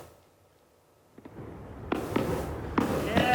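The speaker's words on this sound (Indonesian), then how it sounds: "langit di atas Gunung Rushmore berkilau oleh ribuan letusan kembang api" Thousands of fireworks burst in the distance over Mount Rushmore, a few sharp cracks and booms rising over a steady crowd-like rumble after a quiet start.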